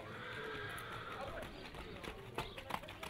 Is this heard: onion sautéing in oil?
no